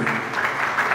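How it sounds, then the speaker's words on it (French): A crowd claps briefly and loudly at a foundation ceremony as a woman is honoured, a short burst of massed applause. "Sous vos applaudissements"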